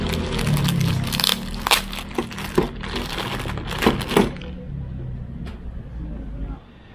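Crinkling and crushing of packaging as a car-wash foam cannon with a brass body is unboxed, with bursts of rustling and cracks close by and some muffled talk.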